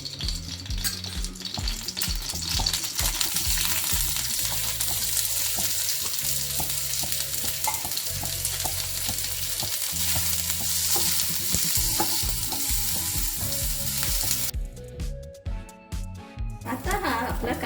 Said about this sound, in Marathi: तेलावर मी हा कांदा परतून घेते